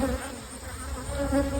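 Honeybees swarm around a hive in a continuous, close, droning buzz that wavers slightly as individual insects pass.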